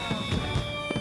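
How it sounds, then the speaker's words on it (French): Several dull firework pops and bangs in an animated cartoon go off irregularly over a steady tonal hum, moderately loud and somewhat distant. "le bruit des explosions peut les effrayer"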